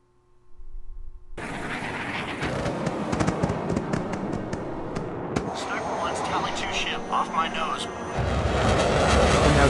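A fighter pilot clip plays back loudly: jet aircraft engine roar rising in a steady wash with sharp bursts and cracks, and radio-style voices break in partway.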